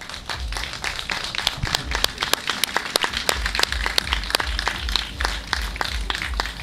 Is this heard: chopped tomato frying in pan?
no